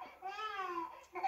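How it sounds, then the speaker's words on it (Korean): An infant wails in the 1967 Bresson film Mouchette, with a long, wavering cry that falls in pitch and then a fresh sob rising near the end. The crying is fairly faint and heard alone. "아이 우는 소리를 들으니까 저 아이 우는 소리 좀 안 듣게 하라고 얘기합니다"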